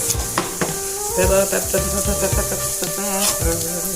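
Peppers dropped into a hot pan of softened tofu mixture for Caribbean-style tofu, sizzling loudly with repeated stirring clatters and scrapes, close and busy throughout.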